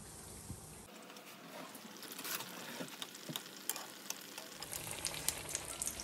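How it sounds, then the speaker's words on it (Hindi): Chicken burger patties sizzle in hot oil, a crackling, spattering fry with irregular pops and bubbling that builds slightly over several seconds, close and alone without talk. "और अब हमारा ऑयल गरम हो चुका है, तो अब हम ये पैटीज इसमें डाल देंगे।"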